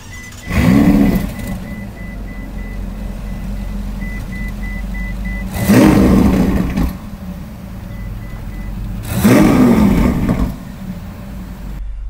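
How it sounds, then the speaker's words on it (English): Three engine revs of a 2015 Ferrari California T twin-turbo V8 rise loudly over a steady idle rumble, spaced several seconds apart, close by with no talk. "I want to start it up for you and let you hear the twin turbo V8."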